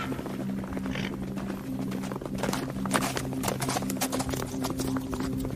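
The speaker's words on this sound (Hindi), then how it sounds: "तभी एक जाने पहचाने घोड़े की आवाज ने उसका ध्यान खींचा" Horse hooves clip-clop in a steady, close rhythm, used as a sound effect in a horror podcast, with a low drone and rustling under the hoofbeats and no talk.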